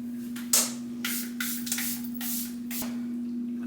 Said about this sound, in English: I brought my setting spray, but mine is better.